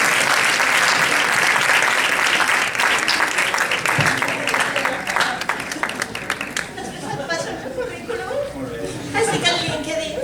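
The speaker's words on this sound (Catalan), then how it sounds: "Fort aplaudiment" Strong, dense applause from a film festival audience at Festival Cinemart 2025, loud at first and then thinning into scattered claps, with chuckles and chatter mixed in.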